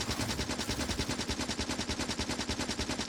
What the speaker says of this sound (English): I can just handle this with my machine gun.